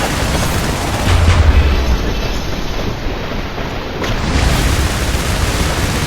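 Booming airstrike explosions and gunfire in the war game IS Defense, set at a harbor: a dense, continuous roar of blasts and shooting, with heavier low thumps swelling around the middle and near the end.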